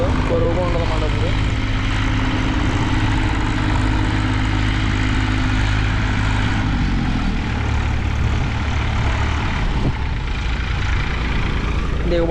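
A Massey Ferguson 241 Di tractor stuck in mud, its diesel engine droning loud and steady throughout, with a rising strain near the start and voices talking underneath.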